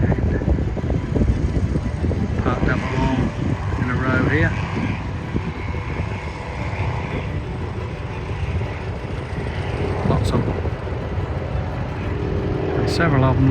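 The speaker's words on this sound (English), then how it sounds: "There's one here, just going round, taxiing round, getting ready to take off." A propeller aircraft taxis around a grass airfield at Popham ahead of takeoff, its engine a steady, moderately distant drone that runs beneath someone talking for most of the time.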